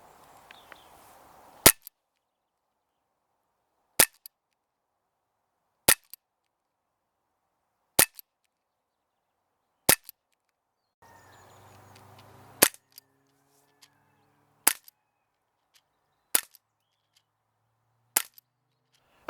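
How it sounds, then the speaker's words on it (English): Sig Sauer P320 air pistol fired on a range, about nine sharp, loud single cracks spaced a couple of seconds apart, with quiet gaps and faint background noise between shots. "we're going to fire off a few more rounds to see what the overall group is"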